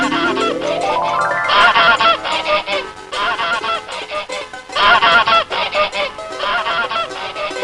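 A goose honks loudly several times in a row, each call a nasal, brassy blast with short gaps between. The honks are close and clear, with no voices over them.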